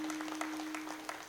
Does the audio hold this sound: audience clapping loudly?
yes